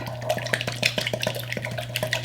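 A utensil stirring egg into cream cheese in a bowl for keto chaffles, with quick rhythmic taps and scrapes against the dish, close and clear.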